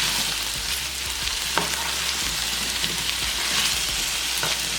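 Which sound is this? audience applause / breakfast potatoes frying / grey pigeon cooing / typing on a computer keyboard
breakfast potatoes frying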